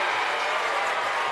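A gym crowd at a boys' basketball game, a brief burst of applause and cheering after a long three-pointer, steady and fairly loud throughout with no clear talk.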